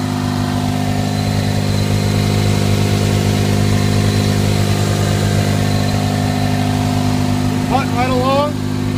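A 1995 Toyota Corolla 1.6 4A-FE four-cylinder engine runs at a steady idle, a constant close hum with even tonal drone throughout, and a person speaks briefly near the end.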